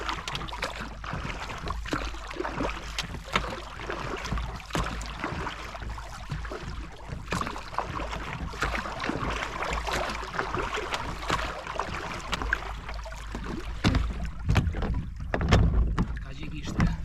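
Paddles work a small boat along a coast, giving steady splashing and water wash with wind noise over the microphone and brief muffled talk.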